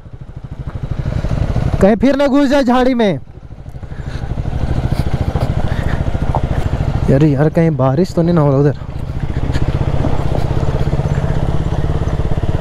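A KTM Duke 250 Gen3 motorcycle rides off-road, its engine droning steadily and close throughout while two people talk over it in short bursts.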